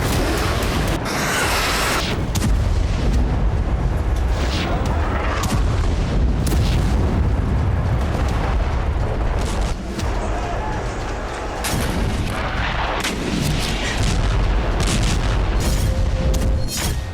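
Continuous heavy booms and rumbling blasts from bombing in Gaza, loud and dense, with repeated explosive bursts layered over a constant roar.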